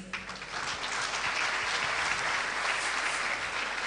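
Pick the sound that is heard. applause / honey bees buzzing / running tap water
applause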